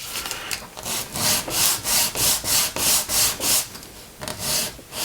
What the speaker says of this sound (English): Don't use too soft a sandpaper because it tends to just run over the top and not remove any plastic